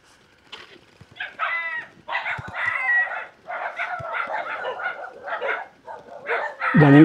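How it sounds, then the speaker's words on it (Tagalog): Roosters crow and dogs bark in a rural village near Pangil, Amadeo, Cavite. Loud, close calls come in repeated bursts, ending with a strong crow. "Daming aso."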